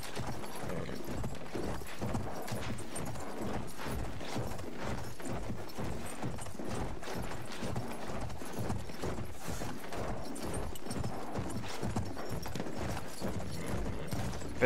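Horse hooves in the Battlefield 1 video game clip-clop in a steady, rapid rhythm throughout, loud and close over a constant background of game noise.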